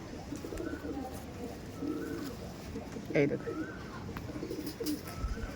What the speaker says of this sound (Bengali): প্রচুর অ্যাক্টিভ পায়রা আছে